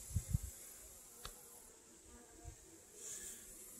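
Honeybees buzz faintly during a hive inspection, a soft, low drone with a few brief louder thumps near the start and a slight swell toward the end.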